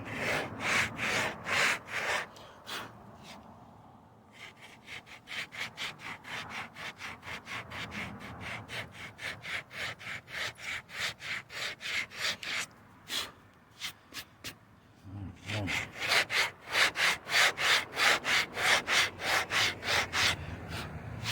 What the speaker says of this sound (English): Now, I guess as I'm sanding down, I'm gonna try to keep that